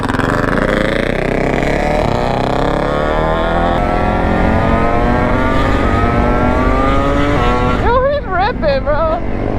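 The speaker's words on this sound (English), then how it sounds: "It's a Banshee motor with like a quad" Custom 130hp Banshee-engined racing quad revving hard at a lot, a loud two-stroke wail climbing steadily in pitch before sharp blips of the throttle, with people talking nearby.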